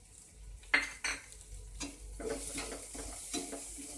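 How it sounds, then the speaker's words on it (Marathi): Red chilli powder, turmeric and garam masala stirred into a pan for sprouted moong sabji, with a few sharp spoon scrapes and clanks over a soft sizzle. "आणि हे सगळं मिक्स करून घ्यायचं आहे व्यवस्थित"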